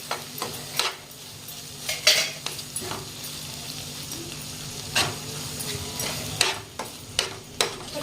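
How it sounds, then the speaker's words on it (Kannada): Chopped eggs are stirred in a frying pan for street-style egg tawa pulao, with a steady faint sizzle and scattered scraping clinks of a utensil against the pan. "ಈಗ ಮೊಟ್ಟೆ ಕಟ್ ಮಾಡಿ ಹಾಕೊಂಡು ಅದನ್ನ ಇದನ್ನ ನೋಡ್ರಿ ಈ ಥರ ಮಿಕ್ಸ್ ಮಾಡ್ಕೊಂಬಿಡೋನ್ರಿ"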